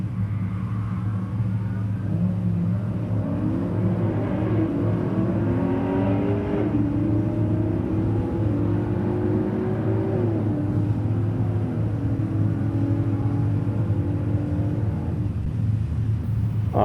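Drag racing car making a quarter-mile run at a Wednesday night drag strip, its engine revving and climbing in pitch through several gear shifts, heard at a moderate distance as a steady rumbling roar for the whole run.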